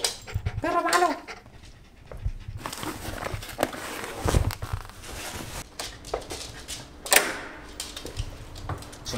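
A dog on a mountain outing pants and scuffles about close by, with uneven bursts of movement, jingles and a brief whimper-like sound between quieter gaps.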